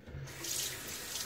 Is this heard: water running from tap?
yes